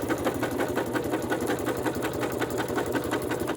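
A sewing machine stitches steadily, its fast, even mechanical clatter running close and loud without a break, with no voices present.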